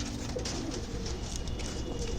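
Punjabi pigeons coo softly in a low, steady murmur, somewhat distant and mixed into a noisy background, with no voices heard.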